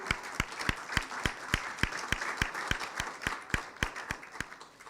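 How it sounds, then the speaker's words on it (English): An audience at a golf charity event claps steadily in rapid, even applause, close and moderately loud. "So give yourselves a round of applause."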